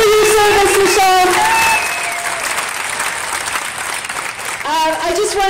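Crowd applause at a women's pro-choice rally, honouring a combat veteran, loud and sustained throughout, with a voice cutting in over the clapping at the start and end.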